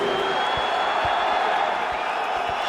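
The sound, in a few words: crowd reacting at Diego Sanchez vs John Alessio MMA fight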